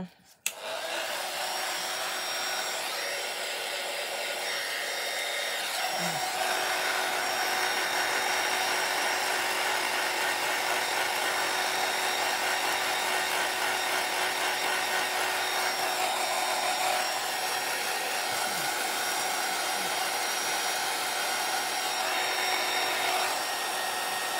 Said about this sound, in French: ça va faire un peu de bruit, hein, mais vous pouvez faire avance rapide le temps que j'embosse